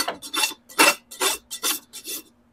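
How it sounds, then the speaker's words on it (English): A farrier's rasp files down horseshoe nail ends on a horse's hoof, six or seven distinct, loud, close rasping strokes in a steady rhythm with brief pauses between them. "Then you take your rasp. We're going to get those nails down and out of our way."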